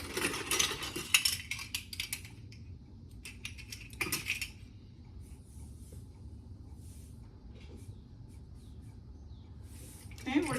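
A spoon stirring sugar and salt in a bowl for batter rolls, quick bursts of bright clinking and scraping at the start and around the fourth second, then a quieter stretch with faint clicks.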